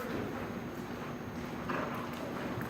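Horse hooves clip-clop steadily on arena footing as a mare is pushed forward into canter during a riding lesson, a continuous rhythmic beat at moderate distance with no voices.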